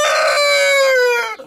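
A rooster lets out a single loud, close, drawn-out crow that lasts just over a second and ends abruptly, with no other sound around it.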